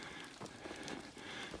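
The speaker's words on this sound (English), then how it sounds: "It's just misting right now, but we've had our share of a little rain" Light rain and misting fall steadily around a mountain shelter on the Ouachita trail, a soft continuous patter and hiss with no one talking.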